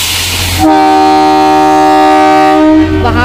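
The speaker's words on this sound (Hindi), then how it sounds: "हॉर्न दे दिया है" A train horn sounds just before the train enters the Barog tunnel near Solan, a loud, sustained, harmonically rich blast lasting about two seconds over rumbling rail noise.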